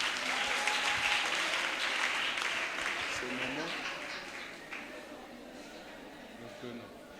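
A conference audience of women breaks into sustained applause, loud at first and gradually fading, with voices mixed in underneath.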